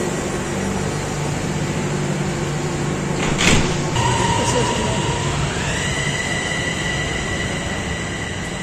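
A Bangkok metro train pulls into a station, a steady rumbling roar with a sharp screech of wheels midway, then a rising high whine as it slows, close and loud throughout.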